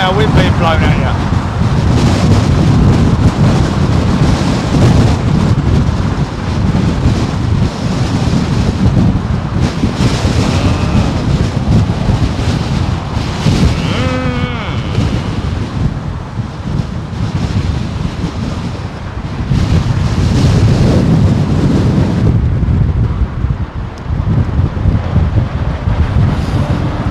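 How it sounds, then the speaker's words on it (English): Strong wind of about 45 mph buffets the microphone beside London Heathrow Airport's runway 27L, a loud, continuous roaring rumble that surges and eases in gusts, with faint voices briefly under it. "imagine standing in a wind tunnel with 45 mile an hour wind being blown at you"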